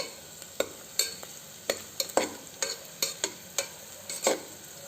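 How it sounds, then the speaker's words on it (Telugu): Cashew nuts fry in ghee in a pan for ghee rice, a soft steady sizzle broken by regular sharp scraping taps of a spoon stirring them, with no talking. "అది కూడా దోరగా బాగా ఫ్రై అయ్యేంత వరకు వేయించుకుందాము."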